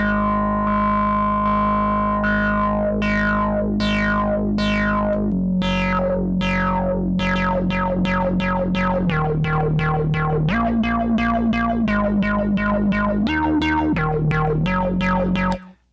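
Cherry Audio Trident Mk III synth playing a sawtooth patch with the filter sweeping open and shut on each note, a loud, steady, distorted sequence of rhythmic wah-like pulses that mimic an arpeggio, alone, ending abruptly.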